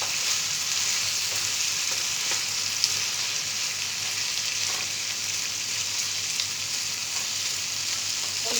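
Fried paneer stir-fried in chilli sauce for chilli paneer, a steady loud close sizzle with faint stirring scrapes throughout and no talking.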